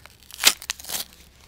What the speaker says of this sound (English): what I'm gonna do is cut the paper on this one side. So I just cut the paper off